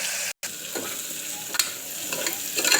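Onion and garlic sauté in a pan, a steady close sizzle marked by several scraping stirs and soft clacks of the spoon, with one brief gap near the start and no voices.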